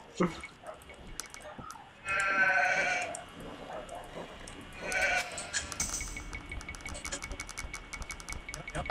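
Sheep bleat in Age of Empires II, two loud strained calls standing out over a busy backdrop of game clicks and ambient effects, with a further faint bleat later on.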